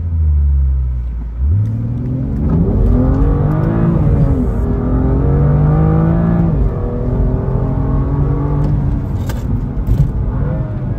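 BMW M2 launching from a standing start: after a low idle rumble the engine roars up through rising revs, with two brief dips at gear changes, loud and close throughout with no talk.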